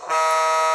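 A steady, sustained horn blast with a rich, chord-like tone from a model Fairbanks Morse H16-44 locomotive, sounding continuously and loudly after a brief start, with no pauses.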